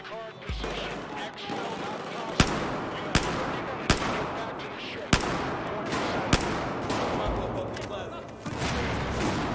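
Sniper rifle shots in Battlefield 4, five sharp loud cracks spaced roughly a second apart over continuous game ambience and low rumble, with a player talking over the gunfire.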